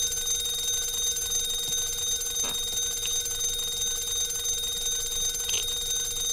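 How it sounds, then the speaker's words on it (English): An alarm clock rings steadily through a room in the Phasmophobia ghost-hunting game, a continuous faint bell tone with a few brief knocks and clicks over it and no talk. "Oh, that was the alarm clock."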